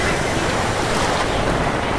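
Flood water surging in waves across a submerged field that looks like open sea gives a steady, loud broadband roar of rushing water and wind, close and unbroken throughout.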